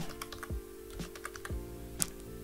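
Keys clatter on a computer keyboard in short irregular bursts, near and fairly quiet over a low steady hum, with no talk.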